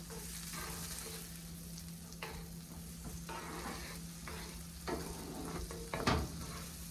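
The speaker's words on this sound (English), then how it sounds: "now we're going to cook the celery" Celery sizzles steadily in a pan, a close, even frying hiss with a low hum beneath and occasional stirring clatters, ending in a sharper utensil knock near the end, with no talking.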